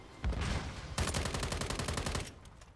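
Automatic gunfire in Call of Duty MW3 multiplayer, with a single loud shot followed by a rapid burst of many evenly spaced rounds, close and sustained for over a second before stopping.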